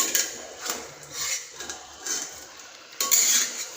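Mutton curry is mixed in a pan with a metal spoon, giving repeated clinks and scraping knocks against the pan in an uneven rhythm, close and fairly clear.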